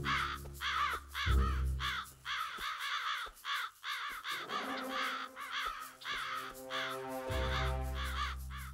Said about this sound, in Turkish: Kargalar oradan geliyor.